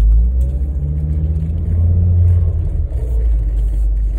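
Car engine rumbling low and loud from inside the vehicle as it drives slowly over a rough track near the Iskar reservoir, with bumps and thuds through the cabin.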